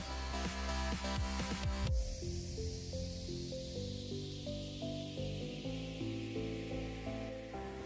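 Chopped garlic and one chopped onion tipped into hot oil give a loud burst of hissing, which eases into a steady sizzle under background music.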